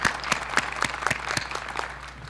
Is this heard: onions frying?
no